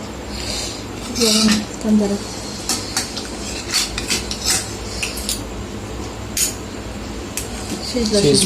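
Metal clanks and rattles as the lid is lifted from a pot of cooked mutton, with scattered kitchen clatter over a steady background hum and faint voices.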